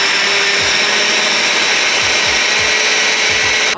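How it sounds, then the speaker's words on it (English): A kitchen blender whirs steadily at high speed as it purees peppers and small tomatoes, a continuous loud motor whine with faint low thumps from the chunks knocking around inside. "I'm gonna blend all those together"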